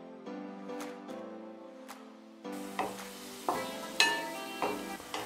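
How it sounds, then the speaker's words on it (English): Chili flakes and dried oregano saute in a pan while being stirred for homemade pizza sauce, giving a soft sizzle with several sharper scraping clinks of the spoon against the pan in the second half, no talking. "Now let this saute for a minute, after which we will be adding our tomatoes in."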